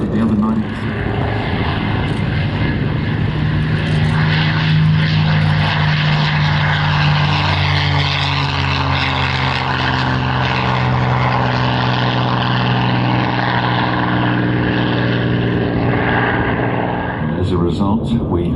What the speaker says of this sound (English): now here we see the Focke Wulf 190